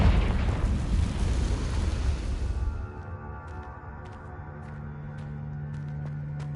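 A Confringo blasting spell goes off in a Harry Potter video game: a loud, broad explosive roar that lasts about three seconds and then drops away to a low rumble with faint clicks.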